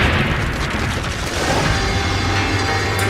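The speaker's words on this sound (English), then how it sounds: "the grenade detonates." A hand grenade detonates in a heavy, rumbling boom that fills the whole short moment with dense low-frequency roar and debris-like noise.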